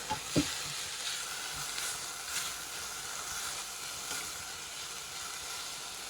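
Tomato and onion sauté in a pan for kadala curry, giving a steady, close sizzle of frying with a few soft utensil knocks at the start and no talking.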